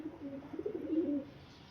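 A caught pigeon or dove gives a short, soft coo, low and throaty, heard close up and alone for under two seconds.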